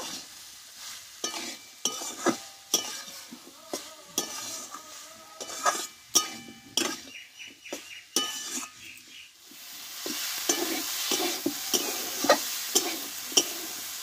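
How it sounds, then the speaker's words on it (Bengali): A spoon stirs potato curry with fresh coriander leaves in a pan, scraping and clinking in an irregular rhythm over a soft sizzle that grows steadier and brighter toward the end, with no talking. "ধনে পাতাটা দিয়ে কিছুক্ষণ নাড়াচাড়া করে নেব।"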